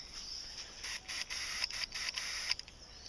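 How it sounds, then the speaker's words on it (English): Quick, repeated hissing bursts from a hand spray bottle spraying garlic spray onto plants on a hugelkultur pile, about seven or eight short pumps in a fairly even rhythm, close and soft. "I'm going to spray the whole pile here."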